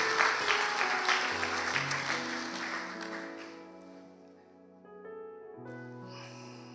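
A church congregation applauds and cheers at a Sunday worship service, the clapping fairly faint and fading after a few seconds as sustained organ-like tones carry on alone.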